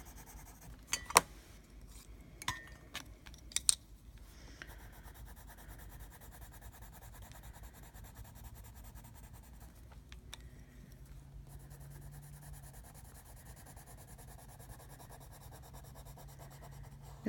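Prismacolor colored pencil scratching across a thin Bible page, a few sharp taps early on, then a soft continuous rubbing stroke with a faint hum underneath.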